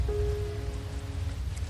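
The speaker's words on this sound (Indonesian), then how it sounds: "hujannya begitu deras" Heavy December rain driven by strong wind pours down steadily, a dense, loud, continuous hiss with a faint sustained tone running through it and no voices.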